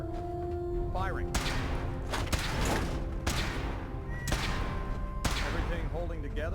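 A weapon in Fallout 4 fires during a power armor suit test, sending several loud, sharp blasts at spaced intervals over a continuous mechanical background hum.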